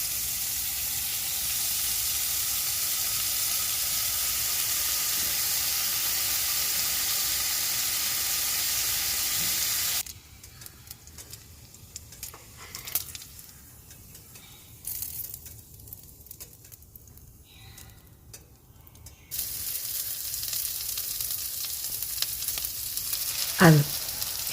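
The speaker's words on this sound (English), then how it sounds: "Now I'm going to be adding some bacon into a skillet, and I want to cook this just until they're brown so that they can render the fat" Bacon strips sizzle loudly in a skillet, cooking until brown as the fat renders; the steady hiss drops away midway and then returns strong, with no talking.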